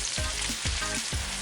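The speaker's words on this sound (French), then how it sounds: "Je vais faire mijoter." Vegetables sizzle steadily in a hot pan, a continuous close frying hiss broken by three evenly spaced soft scraping stirs, with no talking.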